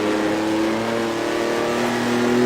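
A 1958 Formula One car engine in the Automobilista racing game, held at full throttle with a steady, loud, rising tone as it accelerates, heard alone with no talk.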